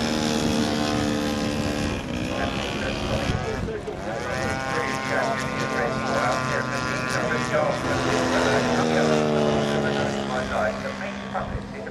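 A large-scale RC model aircraft engine drones and buzzes in flight at an outdoor model airshow, its pitch rising and falling as it passes, with someone talking over it.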